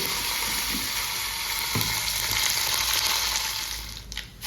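Cumin seeds and curry leaves fry in hot oil, giving a loud, steady, close sizzle that hisses on and dips briefly near the end, with no one speaking.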